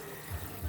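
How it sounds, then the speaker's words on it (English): Hot water runs from the tap of a portable hand-wash sink used for barbecue catering, a steady close rushing stream with slight surges, heard alone. "and bam, just that quickly, I have hot water"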